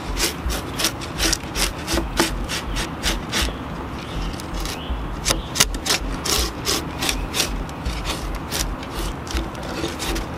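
A sharp draw knife shaves wood in quick, repeated rasping strokes, steady and close, each pull crisp and distinct, passing even over knots.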